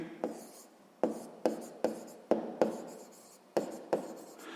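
A pen writes out a school math solution by hand: roughly eight short, crisp scratching strokes in a steady rhythm, close and fairly quiet, with no talking.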